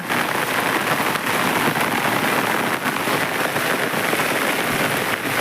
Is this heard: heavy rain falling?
yes